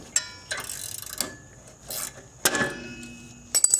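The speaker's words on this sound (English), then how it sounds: "as you tighten the fasteners, they will strike the hub and push the rotor" Ratchet clicking and metal clanks while fasteners are tightened on an Acura TL brake hub, a few short bursts of mechanical ratcheting separated by pauses, close up with no talking.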